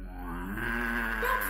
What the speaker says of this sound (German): hör ich nur, es schnarcht ganz in der Nähe